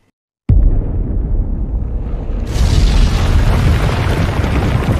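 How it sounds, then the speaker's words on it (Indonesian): A sudden deep boom erupts after a brief silence, then swells into a sustained, roaring rumble that grows louder and fills the rest of the clip. "diakhiri dengan si raksasa hingga terciptalah ledakan yang sangat-sangat dahsyat"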